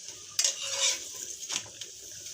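Flatbread for chicken shawarma fries in a sturdy pan, giving a faint, steady hiss broken by a few brief scraping strokes, quiet and close with no talking.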